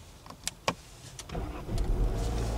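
A couple of sharp clicks, then a 2022 Nissan Qashqai engine cranks via push-button start and catches, settling into a low steady idle.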